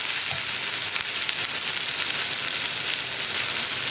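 Sliced onions with salt and curry leaves fry in a pan for masala dosa filling, giving an even, loud, close sizzle with faint stirring throughout.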